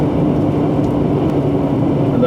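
A 2017 Mercedes-Benz GLE 450 AMG engine drones deep and steady, humming loudly and evenly throughout, with no clear change in pitch.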